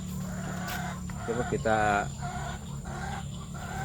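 Laying hens on an integrated farm give a brief burst of clucking and a short crow-like call partway through. Someone talks quietly over a steady background hum.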